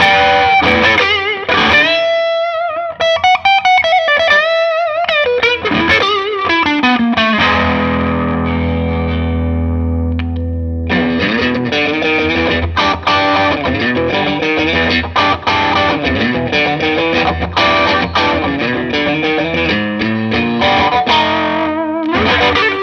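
Electric guitar through a Klon KTR overdrive pedal playing blues-style phrases: loud, gritty overdriven notes and bends, a sustained low chord ringing out midway, then busy licks resuming, with no talk.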